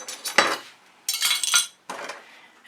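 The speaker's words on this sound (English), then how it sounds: "palette knives" Metal palette knives and spatulas used for fluid-art paint clink and scrape in three short, close bursts separated by brief pauses.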